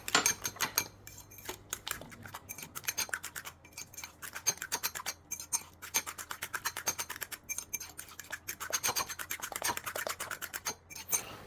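A Thai home cook whisks a curry powder and ground pepper mixture in a bowl for seafood stir-fry, giving a fast, steady run of close metallic scraping and tapping strokes that continues throughout with no talking.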